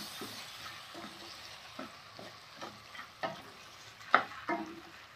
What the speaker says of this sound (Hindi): अब 2 से 3 मिनट और चला लेते हैं इसे।